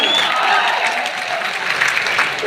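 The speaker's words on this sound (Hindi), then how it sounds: "आप बजाइए ताली" A crowd at a Jan Suraaj political rally in Bihar breaks into dense, loud applause, many hands clapping at once in a steady wash that holds for the whole moment.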